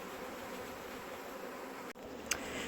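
A honeybee swarm gives off a faint, even buzzing hum, with a brief rustle and a small click near the end.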